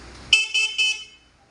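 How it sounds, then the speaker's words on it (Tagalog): A 200cc farm UTV horn sounds three quick beeps, the first slightly longer, close and fairly loud, then fades out. "So, busina naman"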